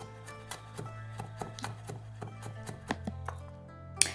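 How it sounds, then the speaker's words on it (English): A kitchen knife finely minces a garlic clove on a cutting board: a steady, rapid series of close, crisp chops that briefly pauses, then ends with a sharper tap, with no talking. "First, we're going to use just a little bit of garlic. Just one clove would be good. We're going to finely mince them."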